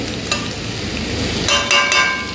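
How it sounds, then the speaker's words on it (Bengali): Egg curry with whole garlic cloves sizzling and frying in a pan while a utensil stirs it, a steady close crackle with brief scraping strokes rising near the end. "ডিমের ঝোল রান্না হচ্ছে"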